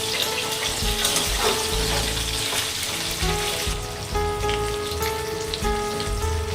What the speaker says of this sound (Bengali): কাঁচকলাগুলো খুব সুন্দর করে ভেজে নিতে হবে।